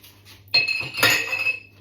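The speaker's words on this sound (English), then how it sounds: "That's the glass, gone in the glass box." Glass is dropped into a glass recycling box, giving two bright clinking crashes of glass striking glass close by, each followed by a ringing, rattling decay.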